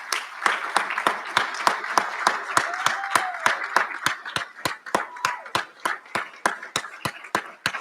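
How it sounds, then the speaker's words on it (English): Audience at a university recognition ceremony gives a round of applause, steady rhythmic clapping from many hands throughout, with sharp periodic claps standing out near the front and faint voices mixed in. "tell them thank you one last time for all that they have poured into you with a rousing round of applause"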